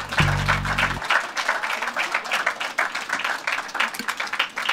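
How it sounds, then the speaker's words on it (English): Steady applause from a crowd at a floral tribute ceremony, dense clapping that carries on throughout after a brief low musical tone fades out at the start. "Another round of applause, ladies and gentlemen"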